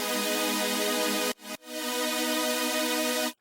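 Serum synth saw patch called Backtrack by Echo Soundworks, a bright, buzzy sustained chord that stops briefly and then returns, held loud and steady before cutting off.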